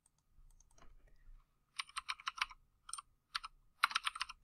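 Typing on a computer keyboard while entering a blog post title into a graphic design tool, several quick bursts of close, crisp key clicks with brief pauses between them.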